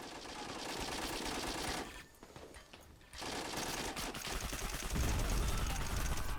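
Rapid machine-gun fire from the war strategy game Men of War, dense rattling bursts that drop out briefly midway before resuming, with heavier booms near the end, fairly quiet overall.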